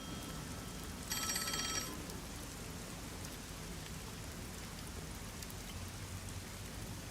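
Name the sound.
phone ringing in a video game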